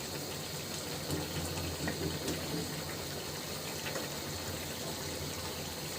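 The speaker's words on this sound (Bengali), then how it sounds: "বলক চলে আসতেছে।" Small fish curry with onion stalks coming to a steady boil in a pot: a continuous bubbling, hissing simmer held at an even level, close and moderately quiet, with no talk.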